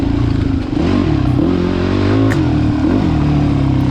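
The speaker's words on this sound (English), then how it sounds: "Just starting to hear a few of the revs of the two-stroke bike behind me." Two-stroke dirt bike revving during a hare scramble race at Mill Hill, a steady loud engine drone with rising and falling throttle blips close by, continuous throughout.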